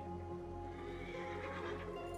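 A horse neighs in the video game Assassin's Creed Origins, a loud whinny set over steady game ambience and a low background hum, with faint hoofbeats, and no talking.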